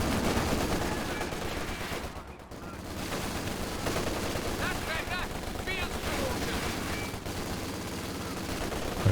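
Machine gun fire and other weapons clatter through a Company of Heroes 2 1v1 match, with dense bursts of shots running almost continuously and someone talking over the battle.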